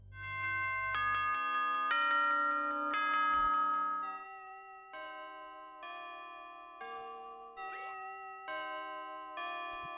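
A grandfather clock chime from the video game Five Nights at Freddy's plays a slow melodic sequence of bell-like tones, each ringing out and overlapping, clear and fairly loud with nothing else around it.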